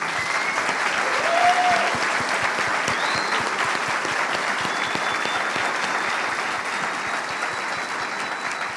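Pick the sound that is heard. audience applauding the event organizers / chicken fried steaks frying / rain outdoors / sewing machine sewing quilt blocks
audience applauding the event organizers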